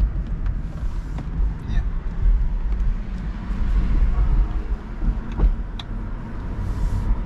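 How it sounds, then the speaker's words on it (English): Tesla car driving, heard from inside the cabin as a soft, steady road and tyre hum with low rumble, and faint voices murmur now and then. "the car is driving really nice"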